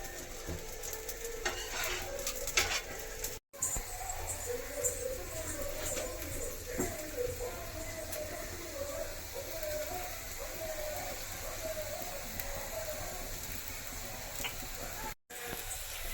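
A wheat flour kara adai fries in oil in a pan with a soft, continuous sizzle and crackle, faint and steady, alongside birds cooing in the background and occasional stirring clinks.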